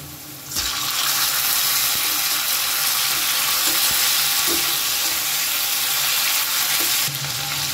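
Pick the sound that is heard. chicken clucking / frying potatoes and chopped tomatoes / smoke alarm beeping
frying potatoes and chopped tomatoes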